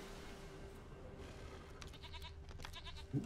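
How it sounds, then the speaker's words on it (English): In the video game The Witcher 3, a goat bleats a few times at moderate distance over a steady ambient background hum, with a brief louder sound near the end. "I hear goat."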